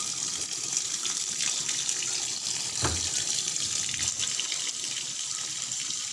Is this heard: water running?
yes